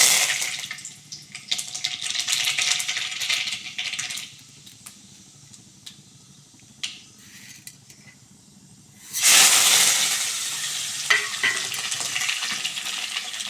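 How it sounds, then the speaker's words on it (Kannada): Curry leaves, urad dal and mustard seeds fry in oil in a tempering pan, a close, crackling sizzle with scattered pops that quiets mid-way, then flares into a loud burst of hissing near the end. "ಇವಾಗ ಒಂದು ಬಾಣಲೆಗೆ ಒಗ್ಗರಣೆಗೆ ಸ್ವಲ್ಪ ಎಣ್ಣೆ ಹಾಕಿದ್ದೀನಿ ಕರಿಬೇವು ಉದ್ದಿನಬೇಳೆ ಸಾಸಿವೆ ಹಾಕ್ಬಿಟ್ಟು ಫ್ರೈ ಮಾಡ್ಕೊಂಬಿಡ್ಬೇಕು"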